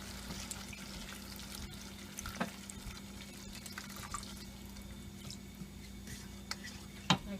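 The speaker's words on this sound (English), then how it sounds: "as you can see, we are adding the tamarind juice" Tamarind juice poured into a simmering fish curry in a home kitchen: a quiet, soft stream of liquid with faint trickling, a few small splashes and one sharper clink near the end.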